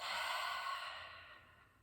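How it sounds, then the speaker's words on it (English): A slow, breathy exhale through the mouth during a park yoga session, soft and close, fading out over about two seconds. "Inhale through your nose. Exhale from your mouth."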